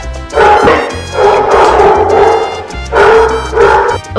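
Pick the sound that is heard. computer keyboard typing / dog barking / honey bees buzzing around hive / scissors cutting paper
dog barking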